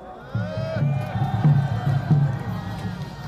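A large outdoor rally crowd near Seoul Station claps and cheers as a late-arriving board member is welcomed, a rising swell of voices and clapping that starts abruptly and holds with pulsing bursts.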